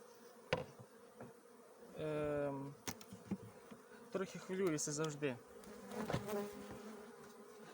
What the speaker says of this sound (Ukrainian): Дивлюся, що бджоли на перший погляд вони облітаються